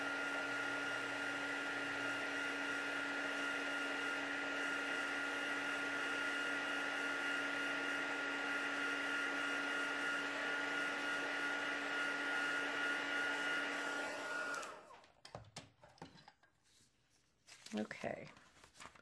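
An electric heat tool blows hot air to dry paint on a cityscape painting, a loud steady whirring drone that runs continuously for about fourteen seconds, then cuts off and leaves faint handling clatter and a few soft noises.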